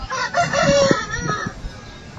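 An Aseel rooster of the red fighter type crows once, close and clear, a ragged, strained call lasting about a second over a little background noise.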